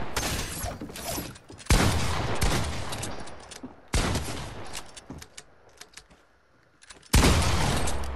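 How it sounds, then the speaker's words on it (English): Repeated shotgun blasts from an online multiplayer video game, loud broadband bursts in clustered volleys separated by short pauses, with a final sharp shot near the end and no talking. "all he does is freaking shoot with a shotgun"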